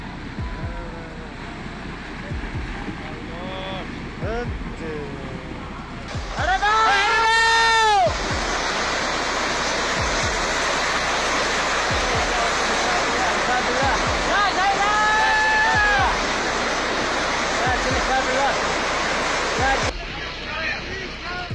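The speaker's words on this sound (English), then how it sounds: "The river of dirt swept away everything in its path," A severe landslide in Nepal sends a river of dirt and giant rocks crashing down. A loud, continuous rushing roar builds and holds for most of the stretch, with low thuds inside it and people shouting over it.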